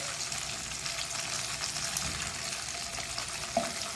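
Green chilies slit down the middle cook in a pan on a low flame for a pan pizza topping, giving a steady soft sizzle and hiss throughout with one brief clink near the end and no talking.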